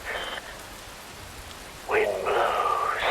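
Rain falls steadily through a cutscene in the game Metal Gear Rising: Revengeance, a soft broadband wash with brief tonal, voice-like swells near the start and end.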